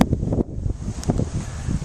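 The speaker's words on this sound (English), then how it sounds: "It's a little windy" Gusty wind buffeting the microphone in low rumbling bursts, with faint rustling in the background.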